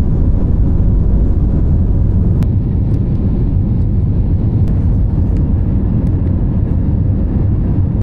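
Steady loud cabin drone of a Finnair jet airliner bound for Helsinki, a constant low engine rumble with faint clicks and no voices.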